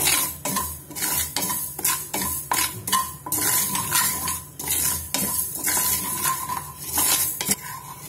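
Green chillies roast lightly in a pan with mustard seeds for an instant pickle, a spoon clattering and scraping rhythmically against the metal over a low sizzle, close and busy from start to finish.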